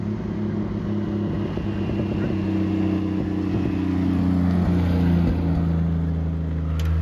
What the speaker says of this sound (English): Little popping and farting from that exhaust